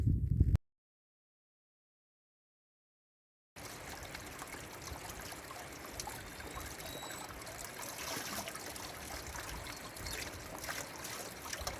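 A mountain stream trickles and burbles steadily beside an Alpine campsite, close and continuous after a short silent gap at the start.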